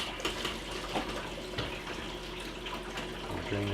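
Rinse water draining out of a film developing tank while processing C41 colour negative film, a steady close splashing gush running throughout.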